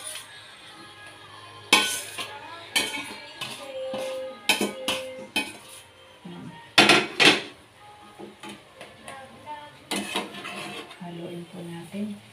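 A utensil stirs chicken feet with onions and garlic in a pan, giving irregular metallic clanks and scrapes against the pot with quiet gaps between, and brief soft voices in the background.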